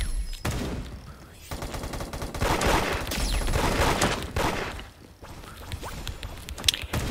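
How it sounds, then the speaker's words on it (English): Gunfire in the Roblox game Da Hood on mobile, with dense bursts of rapid shots and fusillades in several clusters separated by brief lulls, loud and close. "Someone's, like, shooting me from, like, the back already."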